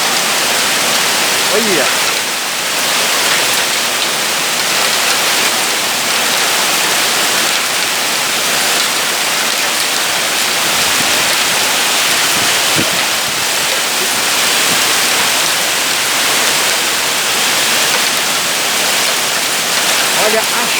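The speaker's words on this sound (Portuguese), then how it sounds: "Do nada caiu essa chuva aqui." Heavy rain with hailstones lashes São Paulo, parked cars nearby, a loud, continuous roar of water and ice with gusty wind buffeting the microphone, while a person briefly speaks over it.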